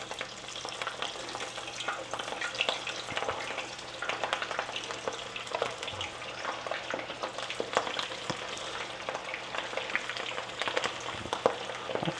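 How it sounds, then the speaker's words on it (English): Shrimp drop one by one into oil heated to 350 degrees and fry with a steady, dense sizzle and crackle, close up and fairly loud, with scattered pops and light stirring clatter for the whole stretch, no voices. "Now our oil is up to 350 degrees. It's time for the shrimp to hit it."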